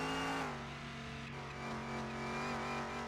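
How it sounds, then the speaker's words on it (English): A hot rod in the Car Mechanic Simulator game accelerates with a steady, torquey engine drone, its tone rising slightly and then holding, loud and continuous throughout with no talk. "I've got to tap the gas to get a nice acceleration."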